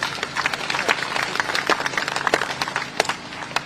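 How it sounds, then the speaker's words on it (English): Applause from an audience at a Commonwealth Day ceremony for the speakers, a dense, steady patter of many hands clapping that continues throughout at moderate volume. "a huge round of applause to the speakers"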